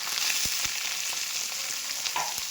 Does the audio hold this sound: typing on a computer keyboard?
no